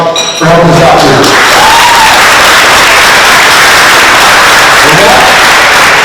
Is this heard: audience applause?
yes